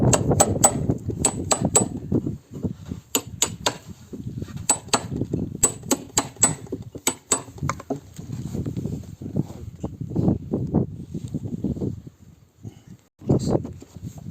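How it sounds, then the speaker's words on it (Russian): A chisel struck by a hammer carves into a wooden log being hollowed into a traditional beehive, giving repeated sharp knocks in irregular bursts over rustling scraping sounds, close and moderately loud. "И вот такой стамеской тоже выбираем места, подбираем."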